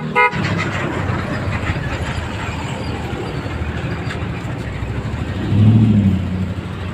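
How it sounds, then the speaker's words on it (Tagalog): A short motorcycle horn toot sounds near the end over a steady engine rumble of a Mio Sporty scooter, with a brief click at the start. "horn with passing light"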